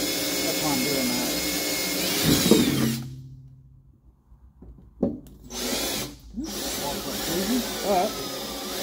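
A power drill with a small bit bores a hole while installing a Kirkey seat back brace, whining in three bursts separated by short pauses, loud and close.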